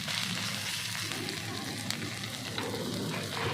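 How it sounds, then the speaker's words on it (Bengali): Chopped onion and green chillies fry in mustard oil, giving a soft, even sizzle that stays quiet and unbroken with a few faint crackles. "এবার এগুলোকে আমি ভালো করে ভেজে নেব"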